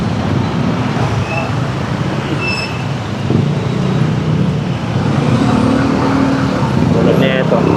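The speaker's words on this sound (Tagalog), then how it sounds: "traffic talaga dito sa lansangan" Busy city street traffic with cars, buses and trucks, a loud, continuous roadway rumble with engines idling and moving close by, a few faint horn-like tones and vehicle noise building toward the end.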